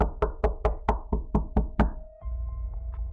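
Loud, hard knocks on a front door come in a steady run of about nine sharp raps, then stop, leaving a quiet, dull room tone behind them.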